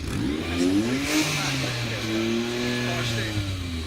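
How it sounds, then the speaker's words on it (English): A turbocharged V6 car engine revs up at a supercar parade and holds a high, rising whine, its pitch sweeping upward and steadying, loud and close. "Give it some revs."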